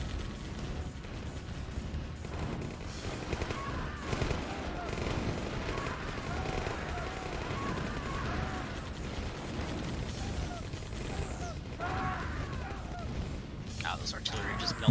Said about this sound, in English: Those artillery are just melting everything.